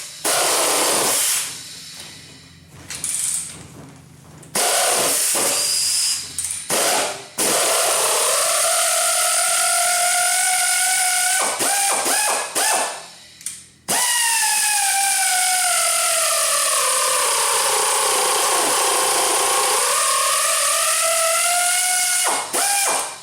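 A driver expands and locks a Time-Sert 5553 thread insert into a Romeo-style cylinder head: close, steady ratcheting clicks with squeaky metallic whines that rise and fall, broken by short pauses.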